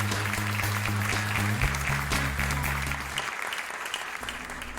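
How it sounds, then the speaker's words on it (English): A canned applause effect plays on a talk radio show, a steady crowd clapping over a low musical chord that fades out partway through, leaving the clapping to continue alone. "Golly, I love that applause."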